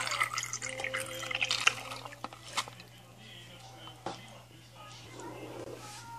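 Rice water is poured into a jar, giving faint trickling, splashing and dripping sounds up close that fade into quieter drips, with a low steady hum beneath.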